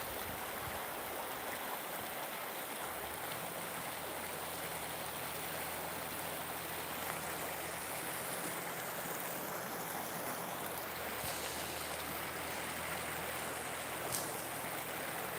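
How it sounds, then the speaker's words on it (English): A small waterfall on a walk, a steady, even rush of flowing water heard close and continuous throughout, with no talk. "That little waterfall slips and slides and just kind of undulates as it comes down."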